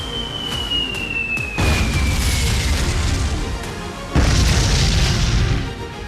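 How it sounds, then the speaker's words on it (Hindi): Bomb blasts over Lebanon during the Israel–Hezbollah conflict rumble as deep, heavy booms with a long roaring tail, one sharp onset after a falling whistle and another later, loud and distant-sounding with no talking. "बम बारूद के धमाकों की आवाज आ रही है।"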